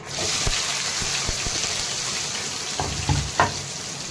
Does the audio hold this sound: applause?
no